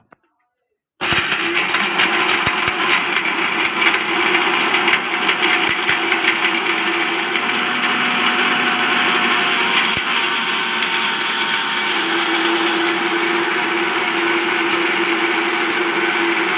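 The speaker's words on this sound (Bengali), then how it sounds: "মিক্সিতে দিয়ে এটা আমি পিষে গুঁড়ো করে নেব" Electric mixer grinder at home pulverising homemade fish bait for catfish into powder, a loud continuous whirring motor drone starting abruptly after a second of silence and running steadily close by.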